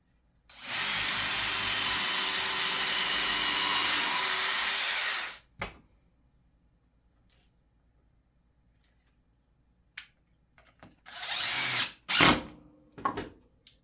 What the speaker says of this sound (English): So this time we gotta drill a pilot hole first.